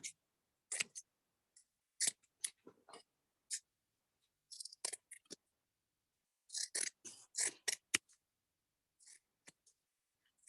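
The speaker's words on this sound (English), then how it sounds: "I'm going to take my scissors and trim it" Crisp scissor snips trim a fabric seam allowance in short irregular bursts, close by, with quiet pauses between clusters of cuts.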